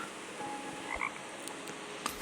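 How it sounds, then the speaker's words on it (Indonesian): Frog croaking in the Roblox video game, set in a forest, with a couple of short croaks over steady ambient game background noise and no talking. "Tuh ada kodok guys, ada kodok, ada lompat itu ya."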